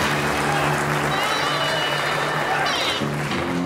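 An audience at a comedy show claps in a steady, dense wash of applause lasting several seconds, with a voice speaking over it.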